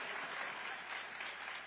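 A large crowd at a speech event applauds and cheers in a dense, steady wash of clapping that fills the whole moment, with no pauses.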